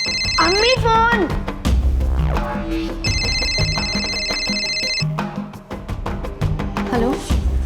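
A telephone rings with repeated electronic trills in two bursts, loud and close, over music and background talk.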